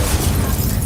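Incendio fire spell cast in Hogwarts Legacy, a loud, dense whooshing burst of flame filling a brief moment with no talk.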